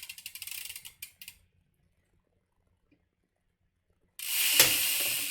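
A rapid ratcheting clicks in quick bursts as a bicycle wheel is tightened with a wrench during wheel dishing, followed by silence and then a sudden loud hiss.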